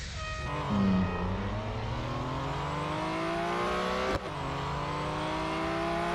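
A Porsche 911 GT1 race car accelerates in a racing video game, its engine note climbing steadily through the gears with one brief shift break, loud and continuous, with no voices.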